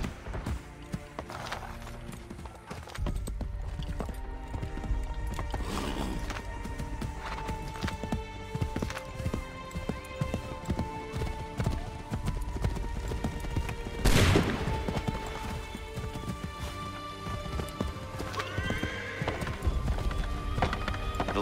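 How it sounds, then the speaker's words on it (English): Horse hooves clip-clop at a gallop in Assassin's Creed III, with whinnies and neighs, steady and fairly close under a busy mix of game music and effects including a burst of distant gunfire. "Get on that horse."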